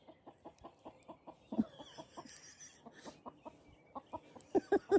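A chicken in a garden gives a string of short, soft, rhythmic clucks at close range, with a few louder clucks near the end and faint background sounds.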